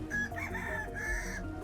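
A rooster in the Vintage Story video game crows once, a clear drawn-out cock-a-doodle-doo with a few clucks around it, close and loud over a low steady hum of game ambience.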